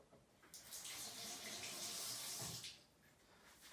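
Water pours into a mixture to top it up, a hissing splash that swells for about two seconds and then fades, with a quieter start and tail.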